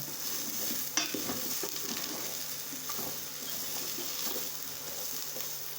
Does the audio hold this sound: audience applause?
no